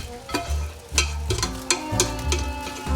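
Cabbage and onions stirred in a bacon skillet, a spoon scraping and knocking against the pan in irregular strokes over a soft steady sizzle, close up with no voices.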